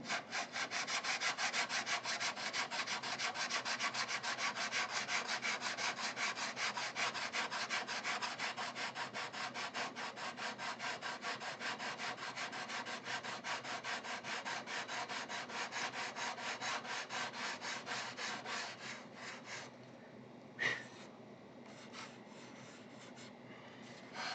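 Steady back-and-forth rasping of a sanding block on a wooden model airplane wing, fast and even strokes that run continuously before slowing and stopping near the end.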